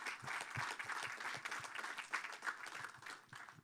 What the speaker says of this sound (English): So give a warm applause for all of our amazing startups